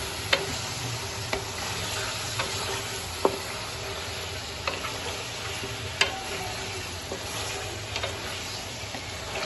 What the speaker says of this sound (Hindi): थोड़ा सा इसमें घी डाल देते हैं। घी गर्म होता है